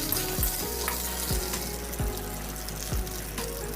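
Cut hog plum pieces fry in hot oil with black mustard seeds, a steady close sizzle broken by a few regular scraping stirs about once a second, with no voices.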